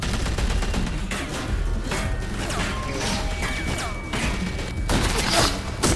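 Gunfire and crashing impacts fill a fight in The Walking Dead Season 3 video game, with repeated sharp bursts over a dense, chaotic backdrop and a heavier volley near the end.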